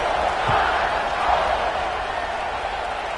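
Stadium crowd at a college football game, Alabama against Texas, a steady loud roar of cheering filling the space, dense and continuous without pause, with no distinct voice standing out.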